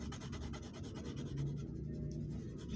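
A pen scratches back and forth while shading a plane on a drawn cube, giving a soft rhythmic rubbing that is close and steady throughout.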